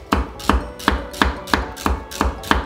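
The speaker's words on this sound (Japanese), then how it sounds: "セロリは筋を取っていただいて薄切りにしていきます。" A knife slices de-strung celery thinly on a cutting board, giving a crisp, evenly spaced series of close, loud chops, roughly three per second, with no voices.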